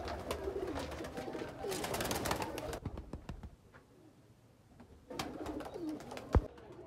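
Sialkoti and Kasoori breeder pigeons coo in rolling bursts, loud and near, dropping away briefly before resuming, with a sharp knock near the end.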